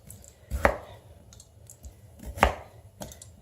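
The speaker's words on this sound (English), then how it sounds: "I'm going to give it a chop in half" A knife chopping through a sweet potato on a cutting board: a few sharp, distinct thuds spaced about two seconds apart, close and clear with a quiet background.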